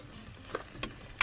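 Onions fry and caramelize in a pan with a quiet, steady sizzle, broken by a few soft scrapes and clinks as a utensil stirs them.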